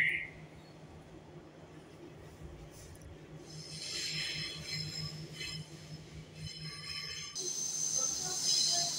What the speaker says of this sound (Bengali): আর এই যে এখন তাজমহল মেট্রো স্টেশনে ঢুকে পড়েছে